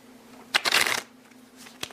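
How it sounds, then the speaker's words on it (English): A deck of playing cards is shuffled once, giving a brisk riffling burst of about half a second, close and clear against quiet room tone, with a faint tap near the end. "Shuffle the cards."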